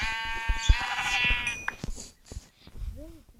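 A single Minecraft sheep bleats loudly up close, a wavering nasal cry, followed by a few soft clicks and a quieter tail.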